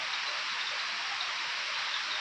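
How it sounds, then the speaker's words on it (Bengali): Heavy rain falls in a steady, loud, dense hiss that holds unbroken throughout, with no voices over it. "আবার বৃষ্টি নামলো, আর রীতিমতো জোরে নেমেছে।"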